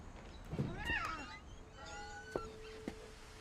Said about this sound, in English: There's a cat right outside.